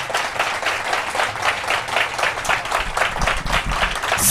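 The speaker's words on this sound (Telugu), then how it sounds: "ఆ గొప్ప దైవజనుకి ఒకసారి గట్టిగా చప్పట్లు కొడదాం." Devotional gathering audience applauding loudly and continuously, a dense wash of clapping that holds steady throughout without pause.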